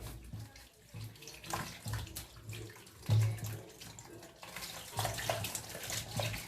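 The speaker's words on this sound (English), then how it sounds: "I will wash them in running water." Tap water running steadily while tomatoes are rubbed and rinsed under it by hand, a continuous close splashing with occasional louder gushes.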